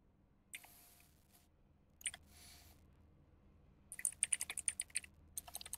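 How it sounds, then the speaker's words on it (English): Someone types on a computer keyboard during an iRacing NASCAR qualifying session at Dover. Faint isolated clicks come first, then a quick, close burst of keystrokes in an uneven rhythm, all quiet and with no talk. "we are typing like a champ"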